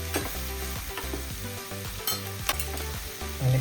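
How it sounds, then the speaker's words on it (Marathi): Onion and tomato frying in a pan until reddened, a close sizzle with repeated stirring scrapes, under prominent rhythmic background music. "कांदा थोडा लाल होईपर्यंत आपण त्याला थोडा वेळ भाजून घेऊया"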